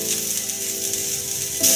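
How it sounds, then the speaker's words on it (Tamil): Onions sautéing in a pan for Tamil kudal kulambu, a steady close sizzle that brightens sharply near the end, with no talk. "பொன்னிறமாக வர முறை கொஞ்சம் வதக்கணும்"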